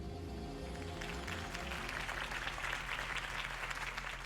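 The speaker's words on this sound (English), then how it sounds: "If only Mr. Wayne, my campaign's largest backer, could have heard that applause" A crowd applauds after Harvey Dent's campaign speech in Batman: The Telltale Series, a dense burst of clapping swelling in after a short lead-in and holding steady to the end.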